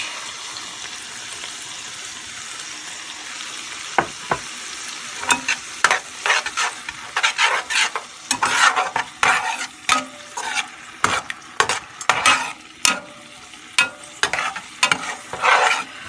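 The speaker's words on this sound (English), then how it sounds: "Now to the coconut milk, I am adding the yogurt." Yogurt is stirred into coconut milk in a pan for a shrimp malai curry, with a steady background sizzle and repeated clinks and scrapes of a spoon against the pan growing busier over time, no voices.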